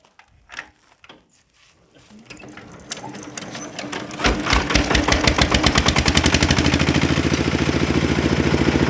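A walk-behind tractor's small engine cranking and starting after an air filter replacement, a few sputters then a rapid, steady loud putter that settles into an even running rhythm, close by.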